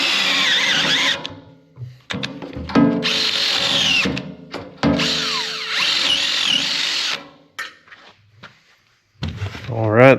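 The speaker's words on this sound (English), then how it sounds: "1/4 inch pilot hole drilled" A power drill boring a quarter-inch pilot hole on an offroad wrecker build, loud whining bursts that rise and stop several times, with pauses, handling noises and a brief speaking voice between runs.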